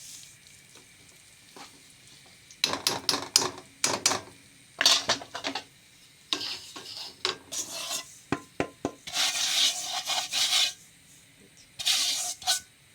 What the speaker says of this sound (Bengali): ঘি দিয়ে সুজিগুলো আবারও ভাজা নিব।